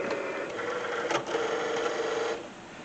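A Cricut cutting machine slices die-cut stickers from Oracal 651 vinyl, giving a steady, fairly quiet mechanical whir with a brief clack near the middle before the motor noise drops off at the end.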